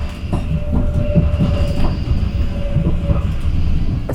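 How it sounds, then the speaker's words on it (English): A Dutch sprinter train rolls loudly along the rails, close and steady, with a rhythmic clatter of wheels over the joints and a thin, sustained tone riding above the heavy rumble. "this is the second out of 3 sprinter trains that we're going to take off today"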